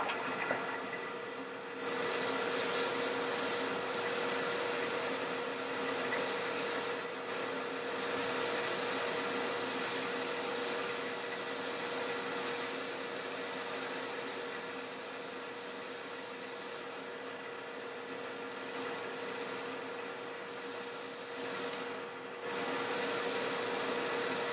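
Wooden bottle stopper being sanded on a running lathe, a steady whirring motor hum under continuous gritty abrasive rubbing, close up and unbroken for most of the stretch, with no talking.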